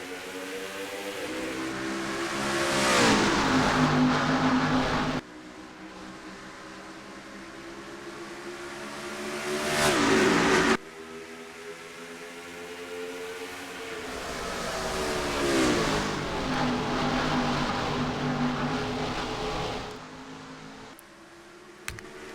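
A pack of stock race cars roaring up through the gears at the start of a sim racing league race at the Rock, engines droning and rising in pitch as they sweep past, with a commentator speaking over the noise.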